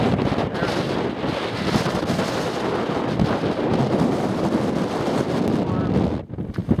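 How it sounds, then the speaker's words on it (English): Strong, steady wind roars and buffets the microphone outdoors in the California high desert for several seconds, a dense continuous rush that briefly drops near the end. "It's windy."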